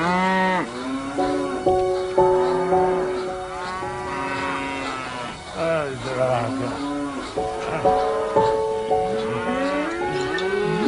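Cattle on a farm moo again and again in long, low, drawn-out calls that overlap and carry on loud and close for the whole stretch.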